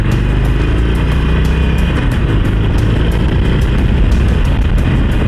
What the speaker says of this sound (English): The Sportsters engine is one engine that I really like. It's got the roar, it's got the power.